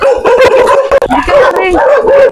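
A dog yips and barks in short bursts close by in a Filipino cemetery setting, with people talking loudly over and around it throughout.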